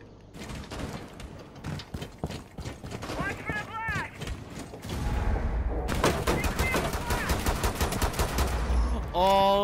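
Rapid wallbang hip-fire gunshots in Rainbow Six Siege ring out as dense, sharp bursts, with heavier automatic fire pounding louder in the second half over constant game noise and some voices.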